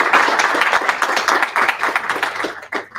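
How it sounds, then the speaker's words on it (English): Meetup audience at a Sydney dbt gathering breaks into a round of applause, dense clapping from many hands filling the room steadily for about three seconds before thinning out near the end. "Round of applause."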